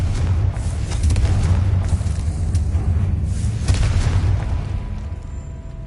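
A Confringo fire spell explodes in a Harry Potter video game, a deep sustained rumbling boom with crackling bursts layered over it that slowly tails off, with no speech.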